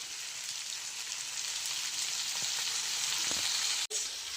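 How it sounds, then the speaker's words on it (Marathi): Pomfret fish sizzles in a frying pan, a loud, steady crackle heard up close, with a few faint pops and a sudden brief dropout near the end. "मस्त पापलेट फ्राय आपला रेडी झालेला आहे मस्त की बघा आवाज कसा देत आहे"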